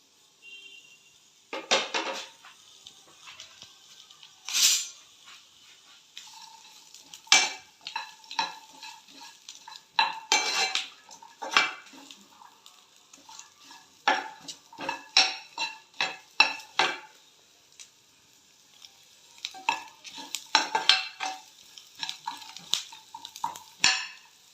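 Ginger, green chili, cinnamon and fennel seeds fry in a pan for a lima bean curry, stirred with a spoon in irregular bursts of scraping and clinking over a faint sizzle, close and fairly loud, with quiet gaps between strokes.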